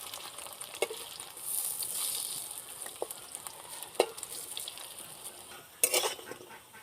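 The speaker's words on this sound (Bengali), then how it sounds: "বড়াগুলো দেখুন লাল লাল করে ভেজে নিয়েছি, এবার তুলে নেব।" Drumstick flower fritters fry in hot oil with a soft, continuous sizzle, broken by sharp metal clinks and scrapes of a utensil turning them in the pan. No one speaks.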